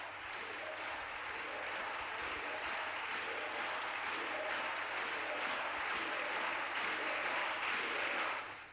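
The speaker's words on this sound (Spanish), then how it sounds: "los aplausos se mezclaron con los gritos de la oposición pidiendo libertad" Steady applause fills the Spanish Congress chamber, a dense wash of clapping from many hands, with crowd shouts from the opposition mixed in at a moderate distance throughout.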